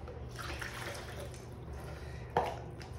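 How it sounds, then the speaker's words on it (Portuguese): Water is poured into a mixing bowl while pizza dough with a biga is being prepared, a soft, steady liquid trickle over low background hum, ending with a small splash or clink. "Vou colocar 300 gramas de água."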